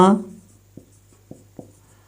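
Sanskrit words are written by hand during a lesson. A voice speaks briefly and fades, then three short, faint strokes and taps are heard against quiet.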